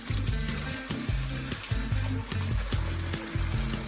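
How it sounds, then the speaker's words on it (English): Purified chacha, a homemade grape moonshine, poured into a bucket with a steady gurgling trickle and rhythmic glugging pulses, close and continuous with no voices. "We pour the purified chacha into the previously prepared bucket."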